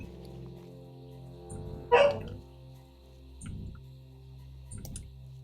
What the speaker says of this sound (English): My doggy is barking in the bedroom because she wants out